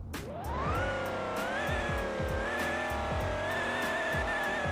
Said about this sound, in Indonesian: ini 760 Li dengan mesin V12 nya guys ya